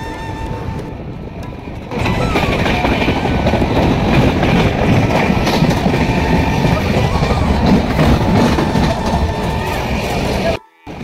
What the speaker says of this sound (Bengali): এখন আমাদের ট্রেন পার হচ্ছে বারাচক জংশন।